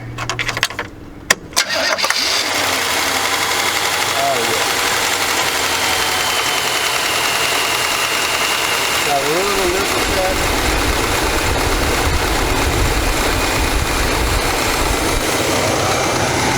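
A 1979 Chevy G20 van engine cranks after a few clicks, catches, and settles into a loud, rough running roar that holds steady and swells slightly with revs toward the end.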